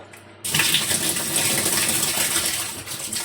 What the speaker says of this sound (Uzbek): Kranni shunday ochasizlar.